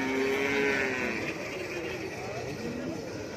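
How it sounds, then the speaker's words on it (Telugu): Buffaloes and cattle low at a Sunday livestock market, with one long, clear moo close by over a murmur of people talking in the background. "మొత్తం మార్కెట్కి వచ్చిన గేదెలు అనేది చూపిస్తాను."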